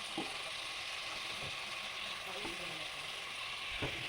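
Onions sauté quietly in a pan for a mushroom curry, a faint continuous sizzle with occasional soft scrapes and clicks of stirring, no talking.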